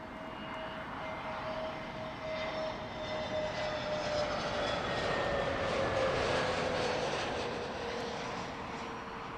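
A jet airliner lands on runway 27 left at Heathrow Airport, its engine roar steady and loud throughout with a rising whine, broad and continuous without pause.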